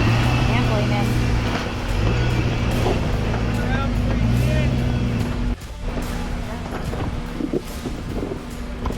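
An off-road vehicle crawls through a shallow creek crossing on the Fordyce Creek trail, its engine droning and shifting pitch with wind buffeting the microphone, while a person talks over it.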